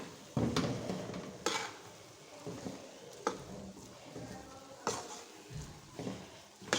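Ground sugar being stirred into a besan panjiri mixture in a ghee-lined pan, heard as scraping spoon strokes and occasional clinks against the metal over a faint sizzle, fairly quiet and close.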